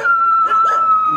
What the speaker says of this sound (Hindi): ये सामने वाला कुत्ता बहुत भौंक रहा है